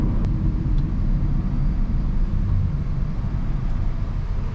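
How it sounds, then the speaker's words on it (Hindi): A 2014 Honda Civic 1.8 i-VTEC with automatic transmission and eco mode switched off hums along with a steady low engine rumble and road noise, heard from inside the cabin at moderate, even loudness. "गाड़ी का मैं इको मोड जो है वो बंद कर रहा हूँ, थोड़ी सी जो गाड़ी की पिक है ना वो चेक करते हैं।"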